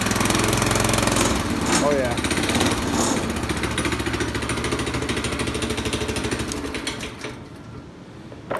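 Homemade Snow Mutt snow vehicle engine running loud and close with a rapid, rattling chug, throttle nudged for forward movement before the sound eases off near the end; a brief voice exclaims.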